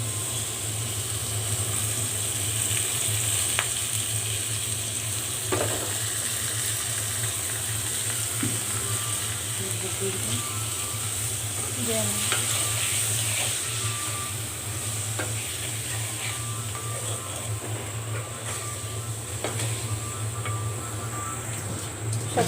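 Onion, salt and chili frying in hot oil give a steady close sizzle for a fish dish, with scattered scrapes and clinks as a utensil stirs the pan.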